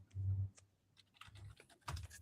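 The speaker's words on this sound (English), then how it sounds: "I can hear the keyboard." Computer keyboard typing in a video call, irregular bursts of key clicks with pauses, fairly close and clear with no talk over it.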